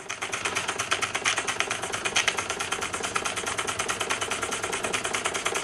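A Bing toy steam engine runs on live steam with a fast, even mechanical chuffing and clatter, loud and close, repeating steadily throughout with no voices.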